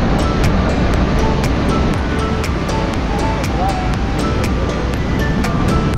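Ocean surf at Pacifica State Beach on the California coast, a constant rushing roar of waves with wind buffeting, loud and close, with faint voices in the background.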